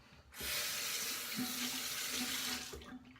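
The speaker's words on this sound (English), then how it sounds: "Now let me rinse off a little bit." A bathroom tap runs for a rinse during a shave with a Muhle R89 safety razor, a steady close gush of water starting abruptly and then cutting off, with no voice.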